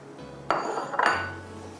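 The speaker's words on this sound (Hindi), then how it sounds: "अब इसमें हम फिश के क्यूब्स डाल रहे हैं।" Cubes of fish go into a pan of fried green hara masala, giving two clattering metallic knocks against the pan over a faint low kitchen hum.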